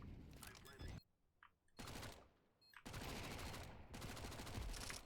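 Counter-Strike 2 gunfire comes in rapid, loud bursts of automatic fire separated by short quiet gaps, several volleys crackling in quick succession.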